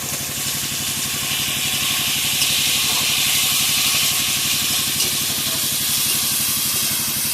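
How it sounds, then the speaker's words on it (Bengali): Tomatoes and onions fry together for a spicy crab curry, producing a dense, continuous hiss with a fast, low throbbing pulse underneath, steady and fairly loud throughout with no speech. "এবারে টমেটোটাও দিয়ে দেবো, টমেটোটাও একটু ভেজে নেবো"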